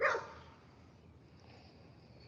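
A single dog bark, close and fairly loud, cuts in at the start and is followed by quiet background hum.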